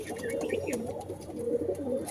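Domestic pigeons cooing close by, soft, throaty, overlapping coos with a little wing rustle.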